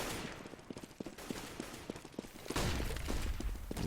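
Gunfire in a Counter-Strike match, GAMERS2 against Virtus.Pro: rapid sharp shots ring out in quick succession, then a louder, denser burst of fire with explosive noise takes over the last second and a half.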